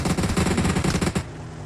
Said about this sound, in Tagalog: Pero parang ang lakas ng baril niya, parang grusa.